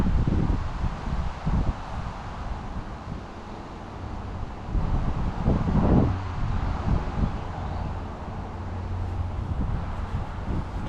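Gusty wind buffets the microphone at a fishing peg, a broad rumbling roar that swells and eases over several seconds with rustling on top, loud and continuous.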